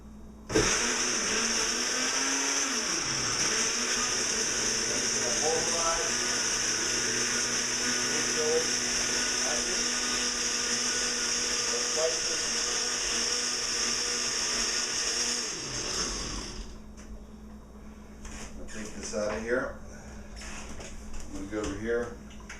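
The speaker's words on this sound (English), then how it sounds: "put it all in the blender." A blender whirs loudly and steadily for a long stretch blending a green chili mixture, then winds down and stops; a voice talks over it and continues afterward.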